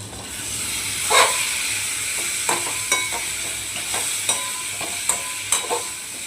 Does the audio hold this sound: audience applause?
no